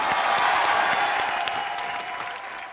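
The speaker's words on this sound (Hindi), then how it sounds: "सनी पाजी के लिए जोरदार तालियां" A studio audience at the Comedy Nights Live TV comedy show breaks into loud applause, a dense, steady wash of clapping that holds strong and then slowly eases off, with no voices over it.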